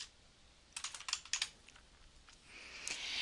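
A computer keyboard clatters under fast, close keystrokes in two quick bursts, followed by a lighter click or two against a faint hum.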